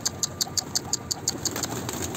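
A young post pigeon gives a quick run of about ten short, evenly spaced chirping calls, close and clear, with a soft rustling background and no talking.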